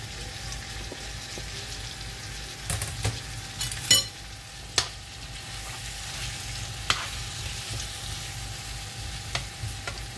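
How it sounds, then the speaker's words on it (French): Meat and onion fry in a pan with a soft, continuous sizzle, punctuated by several sharp clicks and spatters of a utensil against the pan. "Quand ma viande est grillée, là je vais mettre mon oignon et laisser griller la viande."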